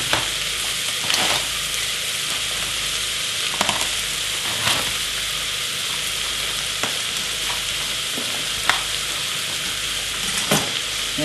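Garlic frying in a pan for lasagne, a continuous close sizzle and hiss with several sharp scraping stirs spaced every second or two, no voices.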